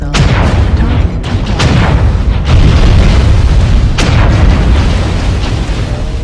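Missile explosions in MechWarrior Online, a loud continuous barrage of booming blasts with sharp impacts near the start and around the four-second mark, thick rumbling low end throughout, no voices.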